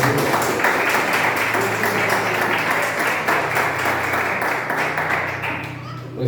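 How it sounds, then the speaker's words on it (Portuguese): A church congregation clapping steadily and continuously in worship, a dense wash of applause with a faint voice underneath, fading slightly toward the end. "louvar o Senhor com palmas"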